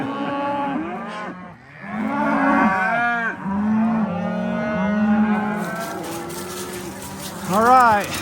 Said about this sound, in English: we got the cows to the top here